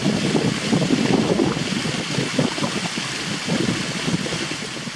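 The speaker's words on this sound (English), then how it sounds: "Boy, when that wind comes whipping up," Cold winter wind gusting outdoors on a walk through a Massachusetts nature sanctuary, a steady loud rush with whipping gusts and rumbling buffeting on the microphone, no voices.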